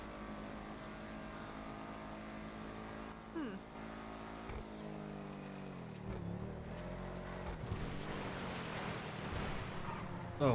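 A badly damaged car driving in a GTA V roleplay game, its engine droning steadily and rising in pitch as it accelerates, with tire skids and rough scraping toward the end and faint talk underneath.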